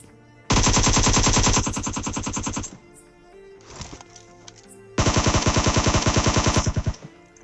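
Two loud, close bursts of rapid automatic gunfire in the PUBG Mobile battle royale game, each lasting about two seconds, separated by a quieter gap with faint scattered clatter.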